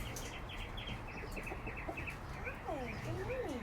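Hens clucking and a rooster's calls on a small farm with goats, a steady chorus of close and mid-distance fowl sounds over a constant low background hum.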